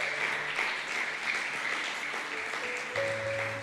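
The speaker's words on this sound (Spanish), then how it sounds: "Usted aplaude y le da gusto" Church congregation applauding during a sermon, steady clapping from a crowd with faint sustained organ or keyboard tones underneath.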